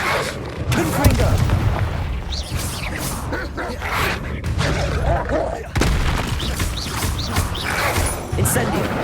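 Fire-spell blasts cast in Hogwarts Legacy, several heavy booms with crackling bursts spread across the stretch, loud and close over a busy game soundscape.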